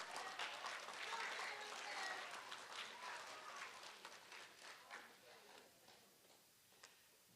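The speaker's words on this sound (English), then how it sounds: "Let's give them a round of applause." An audience at an eighth-grade recognition ceremony claps for students, the applause fairly faint and distant, strongest at first and then thinning into scattered individual claps before fading out.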